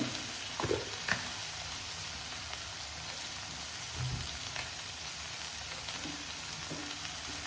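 Bitter gourd fries in a pan, a steady, moderately loud sizzle running throughout with occasional soft clicks and spatters from stirring, no one speaking.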